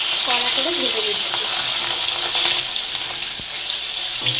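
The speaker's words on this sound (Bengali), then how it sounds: "দু পিস কড়া করে ভেজে নিচ্ছি।" Two catla fish pieces fry until crisp in hot mustard oil, crackling and sizzling steadily up close, with a faint brief voice near the start.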